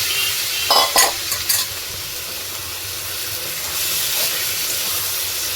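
Soya chunks dropped into a pan of fried onion, ginger and garlic give a steady close sizzle and hiss, with a few brighter crackling bursts early on as they are stirred in.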